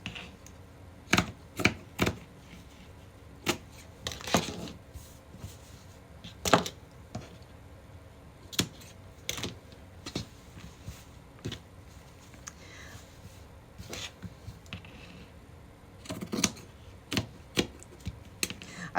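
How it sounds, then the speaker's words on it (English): Scissors cutting the sleeve off a piece of fabric during a craft session, with a series of sharp, irregular snips and clicks at close range, fairly quiet between cuts. "Let's see how to cut the sleeve off"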